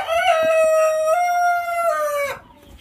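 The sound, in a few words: Golden Sebright chickens, rooster crowing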